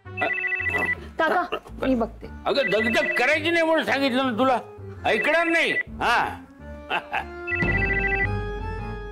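A telephone bell rings indoors in a home scene, loud and close, with a ringing burst at the start and again near the end while people talk in between.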